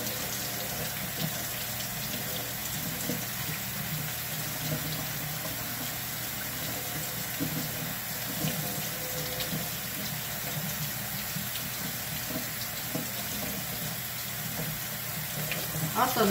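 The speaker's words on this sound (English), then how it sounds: "we'll run the water over it to finish thawing it." Tap water runs steadily and splashes onto partly frozen food in a sink to thaw it, a continuous hiss with no voices.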